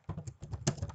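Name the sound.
typing a sentence on a computer keyboard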